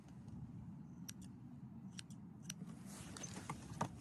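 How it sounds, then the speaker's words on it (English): Straight scissors trimming a Bernese mountain dog's coat during grooming, giving several faint, crisp snips spaced irregularly over a low steady background hum. "I'll take my straight scissors and go straight down."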